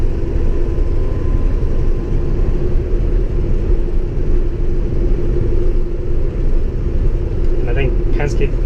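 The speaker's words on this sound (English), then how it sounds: "You just hear tire and drone and driveline." Steady low road drone from tires and driveline inside the cab of a Cummins-powered International Durastar truck while driving, with the engine itself barely audible. The rumble is continuous and fairly loud, and a faint voice rises briefly near the end.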